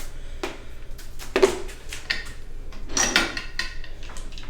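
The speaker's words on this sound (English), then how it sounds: "So I'm gonna have to grab another one out of the drawer." A desk drawer is opened and closed to retrieve glue sticks during bow crafting, giving a few short sliding bumps and knocks close by, with no talk.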